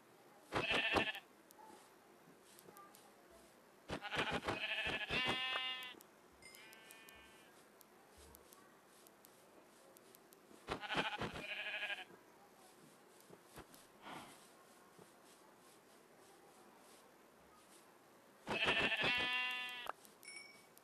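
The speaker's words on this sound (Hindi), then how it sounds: "बकरी भी मिल गई, बकरी को मारते हैं।" A goat in the Minecraft video game bleats in four separate bursts spread over about twenty seconds, each a loud, nasal, wavering cry with quiet game ambience in between.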